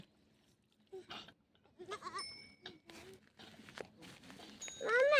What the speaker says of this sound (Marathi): ती मोठी बकरी काय करायली